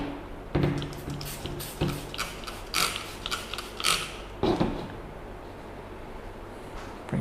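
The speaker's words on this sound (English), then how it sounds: "So we'll get a couple of sprays." A trigger spray bottle sprays Meguiar's ceramic detailer onto a car panel, giving a few short, sharp spritzes at irregular intervals. The spray is close and moderately loud over a quiet background.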